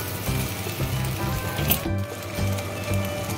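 Mixed fried rice being lightly stirred in a hot pan, giving a soft, continuous sizzle with faint scraping that runs steadily throughout over a low background hum.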